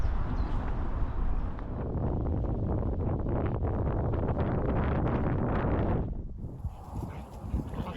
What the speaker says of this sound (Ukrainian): Ну, вітерець такий собі, не слабкий.